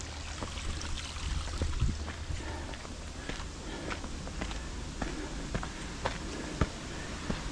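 A small waterfall on the Fløya hiking trail in Tromsø, Norway, gives a steady, close rushing splash, with occasional footsteps crunching over it.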